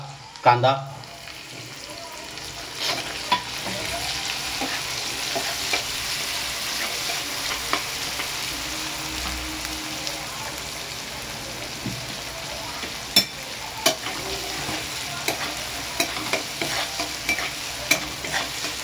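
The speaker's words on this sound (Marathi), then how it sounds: "आता अमूल बटर कांदा लसूण शिजवून घेऊ, नंतर आपण टाकूया थोडा कांदा" Onion and garlic frying in Amul butter in a pan, a continuous close sizzle with scattered pops and stirring scrapes throughout, with faint background voices.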